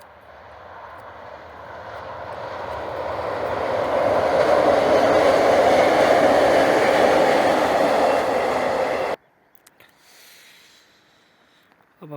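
A train rolls past a worksite beside the tracks in Romania, its roar building steadily to a loud, close rush before cutting off sharply into near silence.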